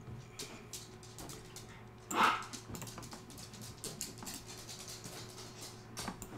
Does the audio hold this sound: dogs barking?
yes